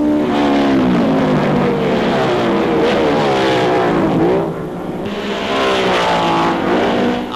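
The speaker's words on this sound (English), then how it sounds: "Averaging over 70 miles an hour, the Formula 3s fairly roared round" Formula 3 race cars roar around the Nürburg track, loud rising and falling engine howls as cars pass close by, with a brief dip before another car screams through.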